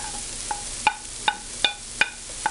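Diced white onion being stirred into bell peppers cooking in a pan, with a soft sizzle underneath and about six evenly spaced sharp clicks of a spoon against the pan, close up.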